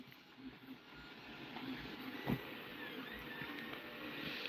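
A 3D printer runs while printing the ears of a figure, giving a faint, steady mechanical whir with soft stepper-motor tones and one brief knock partway through, no talking.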